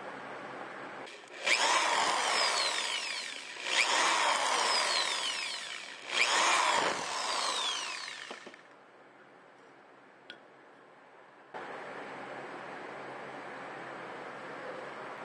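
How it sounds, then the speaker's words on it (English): A power drill whirs in three short bursts as it bores holes through a plastic cap, with quieter pauses and faint clicks between them. "we're going to drill some holes in the cap"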